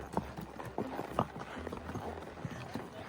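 Horses carrying riders walk a mountain meadow trail in Wyoming, hooves clip-clopping in an irregular, unhurried rhythm, fairly faint and close, with a few quiet voices in the background.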